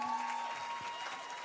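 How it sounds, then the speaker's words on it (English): An audience at an awards ceremony keeps up a steady, fairly distant wash of applause, with crowd murmur and a faint sustained tone running beneath it. "another round of applause, please"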